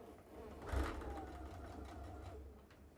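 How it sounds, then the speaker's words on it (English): A sewing machine stitches the pointed corner of a fabric Christmas gnome hat in one short, quiet burst of rapid needle clatter close by. "I am just going to sew it in there"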